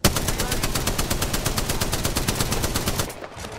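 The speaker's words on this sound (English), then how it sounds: "They spotted me. I'm taking shots." Rapid automatic gunfire from the video game Apex Legends rattles loud and continuous for about three seconds, a steady stream of shots that cuts off near the end.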